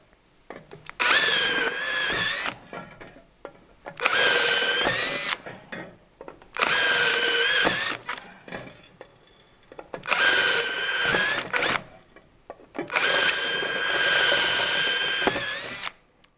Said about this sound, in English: What I do is I drill into the rivets